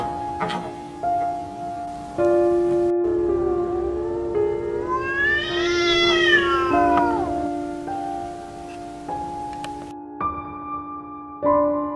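A drawn-out, wavering cat yowl rising and falling in pitch, loud and close, over steady background tones and music.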